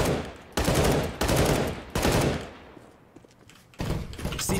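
Galil rifle gunfire in a first-person shooter game comes as three loud, close automatic bursts in quick succession, then a quieter gap before a fourth burst begins.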